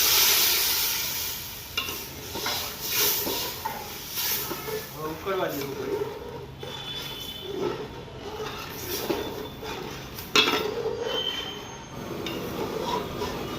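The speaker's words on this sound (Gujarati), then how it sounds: "પીસેલા મસાલા નાખી મિક્સ કરીને ફટાફટ આપણે બાફેલી દાળ નાખી દેવાની" Boiled toor dal going into a hot spiced tempering of ground masala and tomato for a wedding-style Gujarati dal, heard as a steady sizzle and hiss with stirring scrapes and splashes, close and loud throughout.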